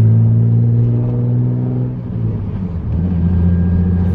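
A turbocharged Infiniti Q50 pulls under acceleration with a loud, close, low engine drone heard from inside, dipping briefly mid-clip as if shifting before the deep tone resumes and climbs again.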